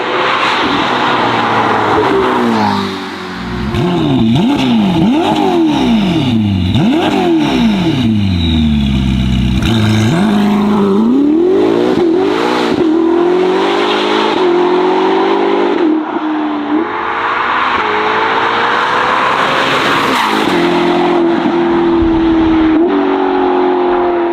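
A Novitec-tuned Ferrari SF90 XX Stradale, a 1,060 hp hybrid supercar, revs hard through repeated rising and falling sweeps. Its loud, close engine howls up and down the range with brief lifts between pulls and no talk.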